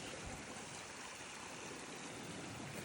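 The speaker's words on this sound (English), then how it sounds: "So then the water actually goes in here under this road" Water runs steadily through a channel beneath a road at a koi pond, a continuous rushing flow with no pauses, close and even, no voices.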